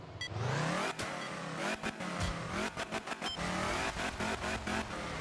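A Lancia Fulvia rally car races on gravel in the game Art of Rally, its mid-pitched engine revving hard and climbing through repeated gear changes, with sharp cuts and rapid throttle blips toward the end.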